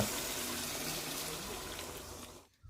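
Water is poured in a steady close stream for a couple of seconds, then stops abruptly.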